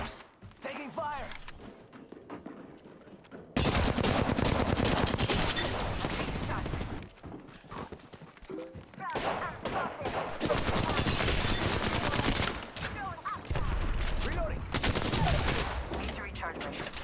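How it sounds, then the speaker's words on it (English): Gunfire in the battle royale shooter Apex Legends: sustained loud bursts of rapid automatic fire and shots crowding most of the stretch, with quieter gaps between engagements and a voice speaking early on. "Taking fire."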